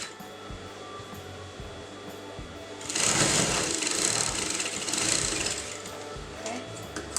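A sewing machine stitches kurta fabric in one sustained burst of rapid whirring lasting a couple of seconds, with quieter handling sounds before and after.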